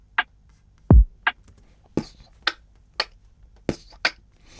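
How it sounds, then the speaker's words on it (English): A sparse Afrobeat drum pattern: a deep, booming kick alternates with sharp, crisp snare hits in a loose, steady rhythm with quiet gaps between strikes. "if you just listen to the snare and the kick together, it will basically sound like this"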